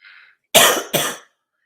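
A short double cough, two harsh bursts close together, loud and near, following a faint brief tone.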